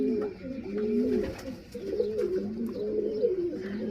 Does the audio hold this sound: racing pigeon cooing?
yes